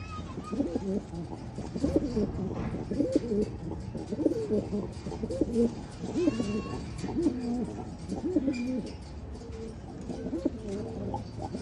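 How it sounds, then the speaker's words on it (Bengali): Soft, rhythmic cooing from fantail pigeons kept at home repeats steadily, a low burbling pattern close by with faint chirps and background noise. "দেখেন নটটা ফুল ভাইব্রেশনের কবুতর, দেখেন ভাইব্রেশন দেখেন কবুতরের।"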